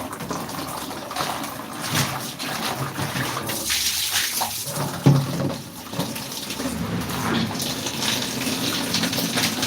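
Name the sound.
water running while rinsing laundry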